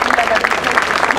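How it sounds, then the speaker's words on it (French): Crowd claps briefly for the third-place rider on the podium at a cycling road race in Lillers, France, the applause blending with a speaking voice over the public address. "Et quel plaisir évidemment de vous retrouver et d'applaudir une nouvelle fois Alfie George"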